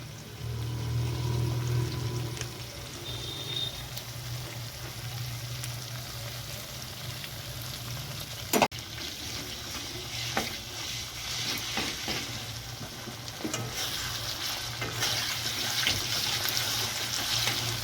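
Onion and capsicum frying with ginger garlic paste in a pan, a constant dense sizzle with intermittent stirring scrapes and one sharp clack, close and fairly loud throughout.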